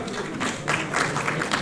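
An audience at a lawyers' convention in a hall claps together in a dense, steady burst of applause that holds at an even level throughout.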